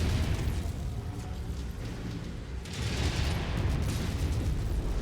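An incoming missile explodes in MechWarrior 5, a rumbling, crackling blast amid heavy mechanical battle noise, with a second louder burst of rumble and hiss partway through.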